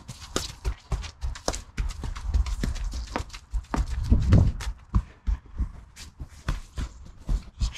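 Hooves of Lena, a horse on a trail ride, clip-clopping steadily along the path at a brisk walking pace, close and clear with a faint rustle behind.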